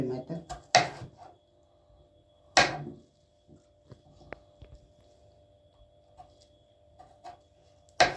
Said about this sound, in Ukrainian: Знову ж таки нарізаємо брусочками завширшки 1 см.